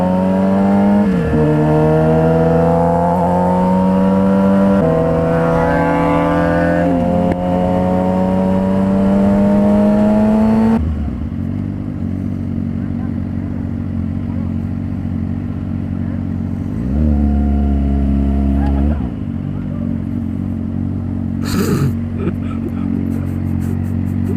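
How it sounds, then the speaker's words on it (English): A loud engine with a throaty exhaust revs and drones nearby, the pitch climbing and falling with each rev before dropping to a deep idle rumble. "he has a modified exhaust."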